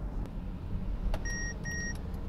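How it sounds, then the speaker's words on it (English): A 2020 Mercedes-Benz GLS 450's blind spot assist warning chime sounds as two clear electronic beeps in quick succession, each a steady bright tone, over a low continuous cabin and road rumble. "You'll notice too with that blind spot assist feature how it indicates on both side mirrors, both with the uh, audible chime"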